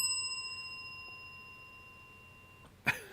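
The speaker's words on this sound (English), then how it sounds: "I didn't anticipate that bell to be that loud or that ring that long" A loud bell strikes once near the end, sharp and bright with a long ringing decay, after a quiet stretch of faint steady tones.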